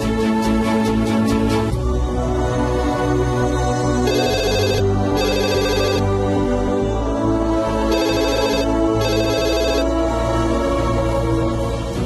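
A phone ringtone repeats in bursts over a steady musical film score, a tonal ring that sounds several times, loud and close, in a Telugu film scene with no talk.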